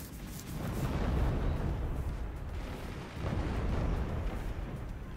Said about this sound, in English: here comes another volley of missiles from Team 1